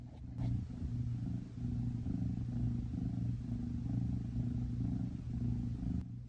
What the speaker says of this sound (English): And he just started purring.